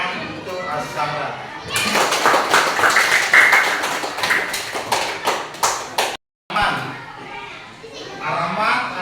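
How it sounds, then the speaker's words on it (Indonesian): Schoolchildren in a classroom clap for a classmate, a burst of many small hands rising after a quiet start and continuing unevenly, mixed with children's chatter and voices, pausing briefly before the talking resumes. "Tepuk tangan untuk As-Samra."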